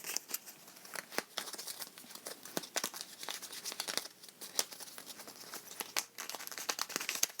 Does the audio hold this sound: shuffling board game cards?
yes